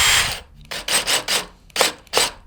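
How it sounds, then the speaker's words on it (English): Several short bursts of a small power drill whirring into a chicken coop floor, drilling a small hole for a countersunk bolt, each lasting a fraction of a second with brief pauses between. "so we need to drill a little hole."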